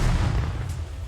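A grenade explodes in a World War One themed rat war video game, one loud booming blast that rolls off into a fading rumble.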